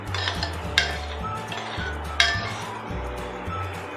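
Milk with a pinch of saffron being stirred in a bowl: a spoon clinks and scrapes against the dish in a few light taps over a low background hum, with no speech.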